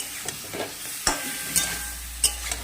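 Bottle gourd stir-fries with cumin paste in a pan, a soft steady sizzle punctuated by several sharp metallic clinks of a spatula against the pan, no voices.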